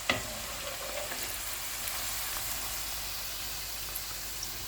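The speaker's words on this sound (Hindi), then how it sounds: "जो चिकन बच गया था उसको अब मैं पैन में डालूंगी फ्राई करने के लिए।" Leftover chicken pieces frying in a pan for Indian-style chicken manchurian, a steady close sizzle of hot oil with faint crackles and a few soft pops throughout, no talking.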